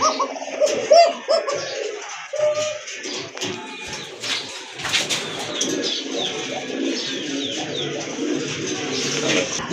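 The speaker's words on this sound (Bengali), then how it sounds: "দেখেন কবুতরের ডাক দেখেন" Pigeons coo repeatedly from close by, mixed with scattered chirps and rustling, with a busy background throughout.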